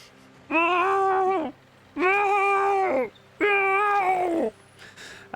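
A human voice imitates a cat's distressed cries: three long, loud, wavering wails, each about a second, separated by short pauses.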